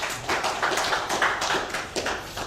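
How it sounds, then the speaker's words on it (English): An audience at a corporate presentation in Ghana gives a round of applause, soft, scattered clapping heard from a distance and building into a steady patter. "I think my team deserves another huge round of applause"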